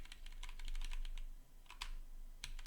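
Page Up and Page Down keys pressed on a computer keyboard during play of TES Redguard, a string of close clicks in irregular clusters with short gaps, heard without talk.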